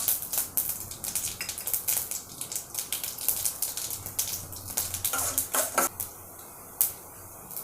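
Mustard seeds and cumin crackling in hot oil for a curd rice tempering, rapid irregular pops and ticks, fairly close, with no talking.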